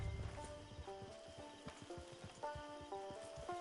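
Horse hooves clip-clop at a steady walking rhythm in Red Dead Redemption, faint and quiet, under soft tonal game music with no speech.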